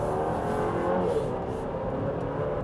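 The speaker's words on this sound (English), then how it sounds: "The first thing you're going to notice, of course, is that 4-cylinder engine sound." A gruff four-cylinder engine of a 2025 Chevrolet Traverse SUV hums steadily at moderate loudness, a rough continuous drone with no voices over it.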